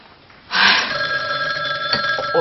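A telephone bell rings steadily from about half a second in, fairly loud and close, with no talking, in an indoor shop scene from a Korean TV drama.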